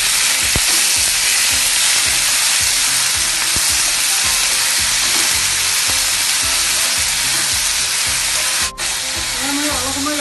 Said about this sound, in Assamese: এতিয়া কাটি লোৱা বিলাহী দিলোঁ।